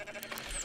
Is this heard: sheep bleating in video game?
yes